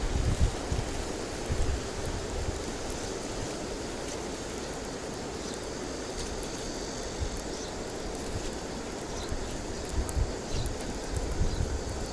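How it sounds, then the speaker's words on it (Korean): Wind blows hard at an outdoor fishing spot, a steady broadband rush with gusts buffeting the microphone throughout, with no other sounds standing out. "아따 바람 부네"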